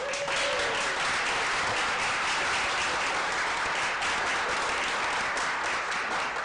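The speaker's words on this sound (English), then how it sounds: "How about a round of applause for John Moore?" A city council chamber audience gives John Moore a sustained round of applause, steady dense clapping filling the room from start to finish without any talk over it.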